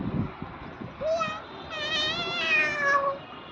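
A voice imitates a cat's meow, giving a couple of drawn-out rising and falling meows at close range after brief adult talk.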